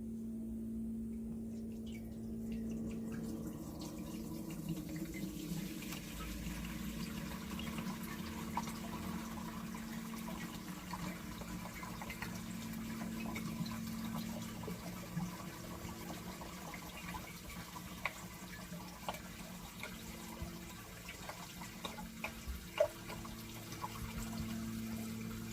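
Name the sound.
water poured into Echo MS402 backpack sprayer tank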